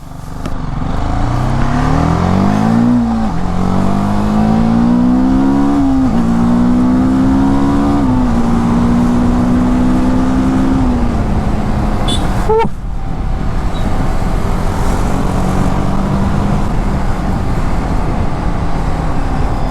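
A TVS Apache 310 motorcycle engine revs loudly and close under repeated throttle, its pitch climbing in several rising sweeps before settling into a steady drone, with a brief sharp knock midway.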